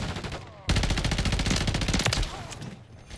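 Rapid automatic fire from a BP50 rifle in a free-for-all shooter match on the Skidrow map, a loud close burst of dense shots lasting a couple of seconds before trailing off.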